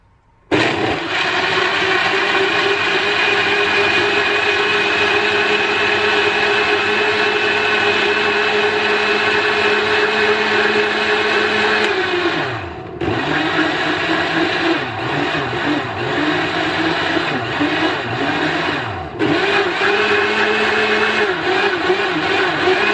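A blender whirs loudly and steadily while mixing strawberries and milk into a milkshake, running continuously for about twelve seconds, then dipping and pulsing in pitch through two brief slowdowns before resuming its high, droning spin.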